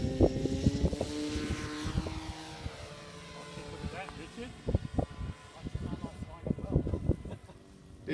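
Carbon Z Cub RC plane towing a flying wing, its propeller buzz droning and shifting in pitch as it passes overhead, heard at moderate distance with intermittent handling noises close by.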